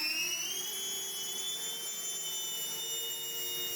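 A 3D-printed RC VTOL jet lifts off vertically with a faint, steady high whine of spinning fans and a slight rise in pitch, no voices.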